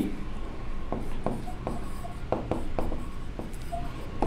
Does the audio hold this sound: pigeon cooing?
no